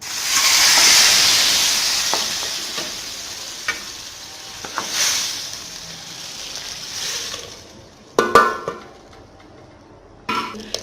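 Hot garlic oil tempering poured into cooked lentils for Punjabi sabut masoor dal, giving a loud, broad sizzling hiss that slowly fades, followed by a few sharp clinks and rattles near the end.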